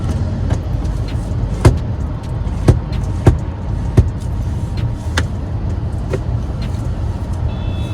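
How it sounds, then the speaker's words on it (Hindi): A Tata Safari XZ+ with a 6-speed manual transmission driving along, a steady low road and engine rumble from inside the cabin, punctuated by several sharp knocks and clicks. "the car we are driving right now is a 6-speed manual transmission"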